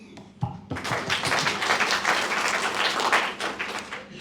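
An audience bursts into applause and cheering at an ambassador's speech after a brief quiet opening, a dense, steady wash of many hands clapping that stays loud for about four seconds.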